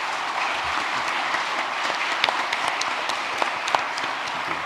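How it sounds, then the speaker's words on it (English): Audience applause for the speakers at a development strategy conference, a dense, steady patter of many clapping hands with a few sharper claps standing out. "let me invite to all of you to give the big round of applause to our speakers"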